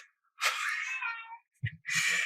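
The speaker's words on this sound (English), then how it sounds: "Yes, you do hear a cat." A cat meows twice, drawn-out and fairly close, with a short low rumble between the calls.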